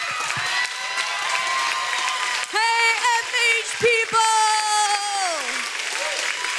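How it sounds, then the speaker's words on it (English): Church youth audience applauding and cheering as a morning speaker comes up to the platform, a steady wash of clapping with shouts, plus a sustained sung or shouted voice gliding over the crowd noise. "So please stand up and cheer for him."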